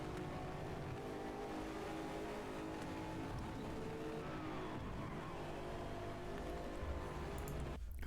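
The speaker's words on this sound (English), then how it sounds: "you could actually hear the actual sound of the cars" Race car engines in the Forza Motorsport video game droning and revving steadily at a distance, a continuous mechanical roar with shifting pitch and no voices.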